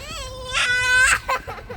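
A small child cries and wails outdoors in a high, sobbing voice, with a long cry, a break, and then shorter shouts, close and loud over faint background noise.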